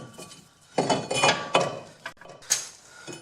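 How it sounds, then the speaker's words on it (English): A new brake rotor is fitted onto the front wheel hub of a Pontiac Vibe or Toyota Matrix, giving a few close metallic clanks and scrapes in quick, irregular succession. "now I've got the new rotor, and I'll just throw this on the hub here"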